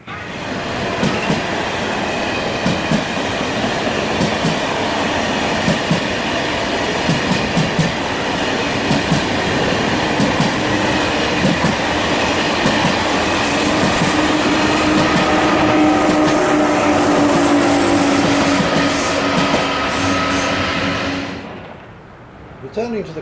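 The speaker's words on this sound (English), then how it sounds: "I'm told that Eurostar will be passing through in just a couple of minutes" A Eurostar high-speed passenger train roars through a nearby station, a loud sustained rush with rattling wheel clatter that builds, holds, then fades away at the end.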